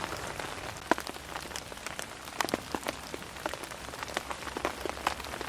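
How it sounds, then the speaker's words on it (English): Heavy rain falling in the woods, drumming onto a small tarp overhead as a steady wash of patter with many sharp, close droplet taps scattered irregularly throughout. "Ooh, this rain is getting heavier."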